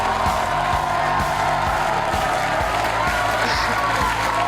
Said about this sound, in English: Pumped up crowd today.